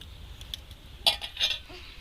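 Drained chhana scooped into a bowl, heard as a few soft, quiet clinks and scrapes of a utensil against the dish with a brief knock near the middle.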